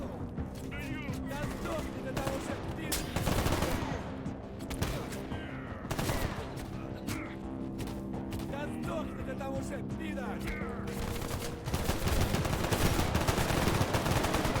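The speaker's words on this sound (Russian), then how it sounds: "Пошла стрельба." Gunfire in the PC shooter S.T.A.L.K.E.R. GAMMA: dense, continuous bursts of shots and loud cracks filling the whole stretch, layered with game ambience and a voice talking over it.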